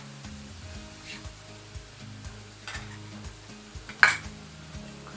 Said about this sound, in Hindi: इसको थोड़ी देर फ्राई करेंगे।